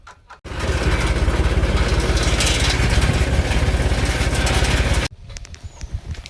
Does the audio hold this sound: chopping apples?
no